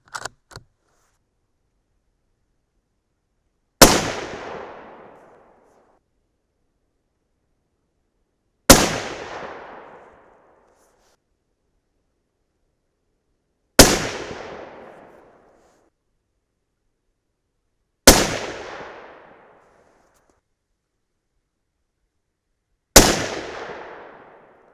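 Five loud, sharp rifle shots from a 300 Win Mag firing Hornady Precision Hunter 200 grain ELD-X loads, spaced about five seconds apart, each a sudden crack with a short decaying echo, alone with no talk.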